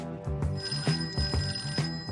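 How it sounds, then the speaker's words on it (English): A telephone bell ringing in a home recreating 1971: a rapid, repeating trill of rings about every half second, fairly close and clear, with no talking. "there's the phone"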